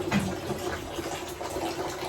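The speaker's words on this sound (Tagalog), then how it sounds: "Yan, nag-iipon ako ng tubig sa bathtub" Water runs steadily into a bathtub from a weak tap, a continuous broadband gush that fills the whole span at moderate level, with no talking.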